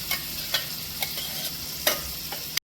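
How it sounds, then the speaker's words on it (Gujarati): Cashew and cream gravy is stirred into vegetables in a pan for pasta, a soft sizzle under regular scraping spoon strokes about every half second, close and fairly quiet. "ગ્રેવીને આપણે બધા શાકભાજી સાથે સરસ મિક્સ કરી દઈશું."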